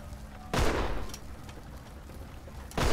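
Gunfire in the pirate video game Ghost Pirates of Vooju Island: a loud close blast that rings out and decays, then another sharp shot near the end.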